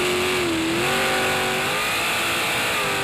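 A jetsprint superboat powered by a 410 sprint car engine screams at full throttle during championship racing at Hastings, New Zealand, a steady, loud, high-pitched engine roar with slight pitch wavering that fills the whole stretch.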